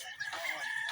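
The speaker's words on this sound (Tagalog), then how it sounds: "Maraming manok dyan." Chickens clucking and crowing close by, a short burst of high, strained calls filling under a second.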